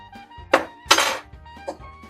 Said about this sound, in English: take your bar spoon and give this a light rise